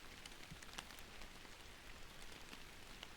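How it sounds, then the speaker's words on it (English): Rain falls steadily on trees, a soft, even patter of countless drops with occasional brighter ticks, faint and continuous with no voices. "the rain hitting the trees"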